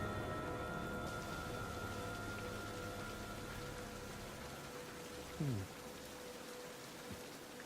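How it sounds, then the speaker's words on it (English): Steady rain in the King's Quest video game, a constant hiss of falling water with a low background hum and one brief tonal swoop partway through. "All this rain should help this tree grow."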